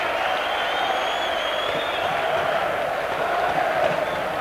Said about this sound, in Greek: Όρθιος ο κόσμος στο Palette Sport, χειροκροτεί.